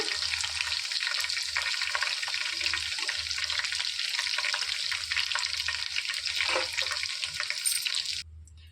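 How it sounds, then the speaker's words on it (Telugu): Chicken pieces frying in hot oil for restaurant-style chicken manchurian, a steady, soft sizzle and crackle that carries on evenly and then cuts off near the end. "మొత్తం చికెన్ కూడా వేయించేసుకోవాలి"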